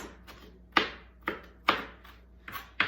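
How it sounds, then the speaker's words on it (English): Knife chopping celery sticks into small pieces on a cutting board, four or five sharp, evenly spaced chops close by with quiet pauses between, no talking. "I'm just gonna cut this all up into small pieces"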